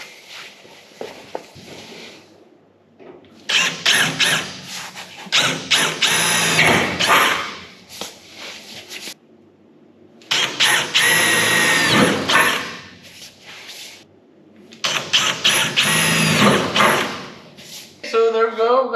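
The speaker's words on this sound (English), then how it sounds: "Let's drill some holes." A power drill bores holes into the steel body of a 1971 Mustang in a workshop, three separate whining bursts of a few seconds each with quiet pauses between them, loud and close.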